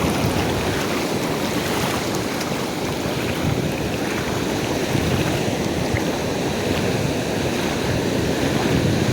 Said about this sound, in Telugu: ఈ యొక్క అలలను చూస్తుంటే